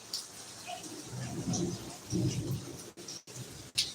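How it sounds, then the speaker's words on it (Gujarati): Low rumbling thunder rolls twice through steady rain hiss, fairly distant, with a few brief sharp crackles near the end. "ગાજવીજ સાથે વરસાદ છે"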